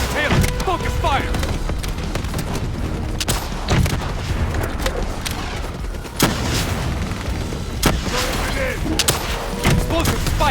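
Dense, continuous gunfire and booming explosions in a Call of Duty: Black Ops III campaign battle against a Manticore robot. Heavy rapid shots and blasts keep up without pause, with sharp cracks standing out.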